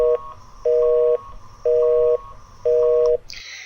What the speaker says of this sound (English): That sound you heard is typically the sound of an alarm clock.